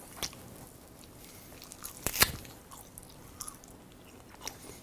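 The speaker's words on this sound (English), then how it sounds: "I could sit here and chew on this bone for a good 15-20 minutes" Wet crunching and gnawing on a raw animal bone, close and quiet, with irregular bites and one sharp loud crack midway, no talking.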